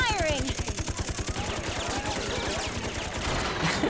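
Rapid gunfire from the 3DS game Persona Q: Shadow of the Labyrinth, a steady burst of evenly spaced shots rattling across the whole moment over game music, with some voice in the mix.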